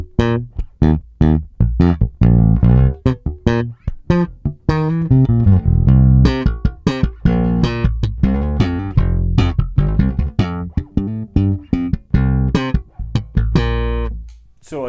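Electric guitar played through an Empress compressor pedal chained with a Diamond pedal on a pedalboard, a loud, even stream of plucked notes and chords with tight, controlled dynamics, alone without talk.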